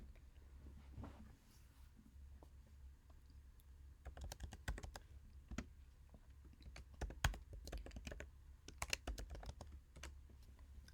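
Git command typed on a computer keyboard: bursts of quick, close key clicks, sparse at first and then denser, with short pauses between runs and a faint steady hum underneath.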